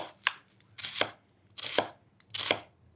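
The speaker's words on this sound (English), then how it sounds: "I'm gonna start by making long cuts following these grooves in the onion." A knife makes four crisp, evenly spaced chopping strokes through an onion on a board, cutting lengthwise along its grooves, each stroke a sharp close thud with a short crackle.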